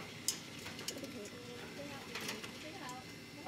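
Loft pigeons cooing softly in a pigeon loft, low murmuring coos mixed with faint chatter and people talking nearby, with scattered light bumps and wing or foot sounds at low level.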